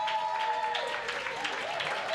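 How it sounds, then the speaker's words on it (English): Audience applause at a summit session welcoming a speaker to the podium, a moderate steady wash of clapping lasting a couple of seconds, with a faint tonal hum and some murmuring underneath. "give a mighty round of applause and welcome to Mrs."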